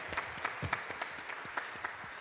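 Scattered applause from a church audience, faint and distant, with a few sharper claps standing out over a thin, steady patter.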